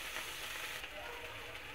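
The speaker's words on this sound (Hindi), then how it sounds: "तेल हमारे गर्म हो चुके हैं। सबसे पहले मैं अनियन डालूँगी।" Onions dropped into hot oil sizzle softly and steadily, a faint, close crackling hiss that lasts under two seconds with no talk.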